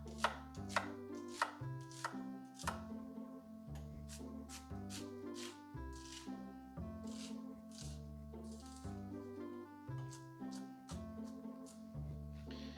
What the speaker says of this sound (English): your favorite chopping knife is at work